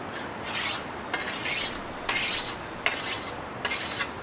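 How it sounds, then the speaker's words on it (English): Blade sharpened by hand with a file, in five even rasping strokes about one per second, close and clear with no talking. "Now you got to sharpen this thing every few minutes, unless you want to work really hard."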